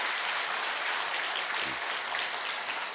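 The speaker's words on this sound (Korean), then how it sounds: "박수로 격려해 주시기 바랍니다." Steady applause from a church congregation fills the whole stretch, loud and continuous, honouring three newly proclaimed honorary elders at a Korean Evangelical Holiness Church service.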